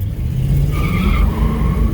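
A warmed-up 1959 Cadillac engine runs with a loud, steady rumble close by, a rising whine riding over the low drone.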